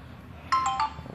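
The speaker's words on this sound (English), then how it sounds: "business phone ringing" A business phone ringtone starts mid-clip during a carpet cleaning job, a short burst of bright electronic tones repeating in a quick pattern, fairly clear over a quiet background.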